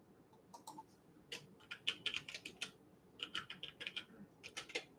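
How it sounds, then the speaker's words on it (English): Quick bursts of typing on a computer keyboard, close and fairly quiet, with irregular clusters of key clicks separated by short pauses. "Let me just type it."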